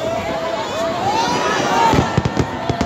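New Year's Eve fireworks over Icaraí beach whistle upward in rising tones, then several sharp bangs crack in quick succession near the end, over a constant crowd murmur.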